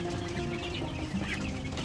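Chickens on a Filipino backyard farm, a flock being treated for illness, cluck softly and steadily in a dense, continuous murmur with a brief higher call midway; no speech.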